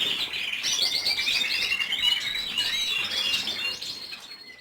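Goldfinches and canaries in an aviary, a busy overlapping stream of bright chirps, twitters and trills from many birds, close and continuous.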